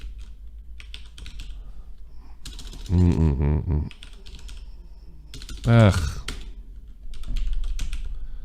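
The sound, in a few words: typing on a sensitive computer keyboard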